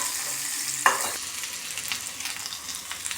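A whole head of garlic fries in a pan for kuska, opening with a sharp clink and scrape, then a steady, close crackling sizzle with light stirring.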